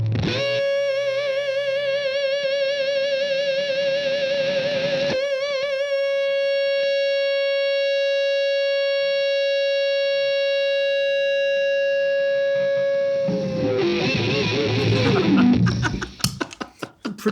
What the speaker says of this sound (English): if I add in the sustain pedal while you're holding the notes